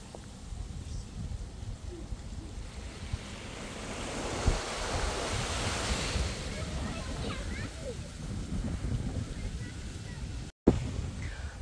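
Sea waves washing in and steady gusting wind at Ao Yon beach in Phuket, Thailand, a constant surf hiss with wind buffeting the microphone and a brief dropout near the end.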